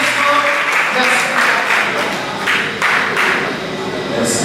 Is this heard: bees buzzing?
no